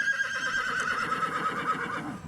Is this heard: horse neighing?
yes